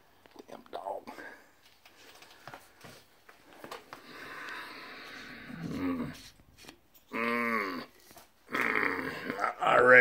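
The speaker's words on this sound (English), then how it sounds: "Damn dog." A dog growling and sniffing close by outdoors beside a woodpile, low rumbling growls broken by snuffles, with quiet human whispering and talk in between.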